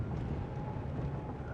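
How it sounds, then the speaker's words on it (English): Wind on a golf course buffets the microphone in a steady, low, rumbling roar that continues throughout without any other sounds. "the wind's really hitting me here"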